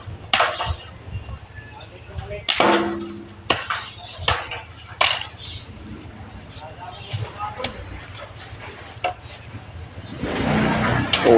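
A machete (gulok) chopping outdoors in a rural province setting, giving several sharp, irregular strikes at close range amid background noise, with people talking now and then.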